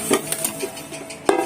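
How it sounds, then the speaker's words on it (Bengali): Fingers mix attar into milk in a bowl for biryani, making short, close wet rattles and light knocks against the bowl, with one sharper knock near the end and no talking. "আঙুল দিয়ে ঘেঁটে দিচ্ছি"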